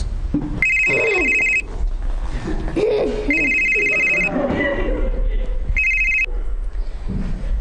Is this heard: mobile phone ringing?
yes